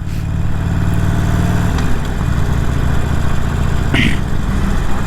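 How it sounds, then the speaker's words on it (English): A motorcycle engine rumbles and idles steadily nearby, its low throb shifting slightly as it revs, with a brief higher squeak partway through. "Get some nice weather and all the motorcycles come out."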